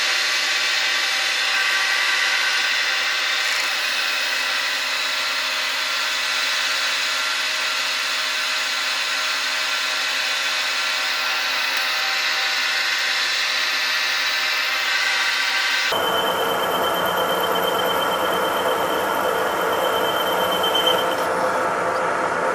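Continuous loud metal machining on a lathe, shaving a Jeep Willys part down a millimetre at a time, a steady squealing whine with no talk that shifts abruptly to a harsher, rougher cutting tone near the end.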